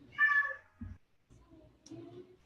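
An eleven-year-old pet cat gives one clear, close meow, followed by a few softer, quieter vocal sounds and a light bump.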